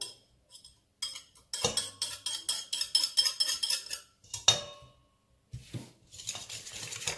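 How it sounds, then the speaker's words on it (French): Batter mixed with eggs is beaten in a bowl, giving bursts of quick rhythmic clinking and scraping from a utensil against the bowl, separated by short pauses, close and without talk. "Je mélange bien."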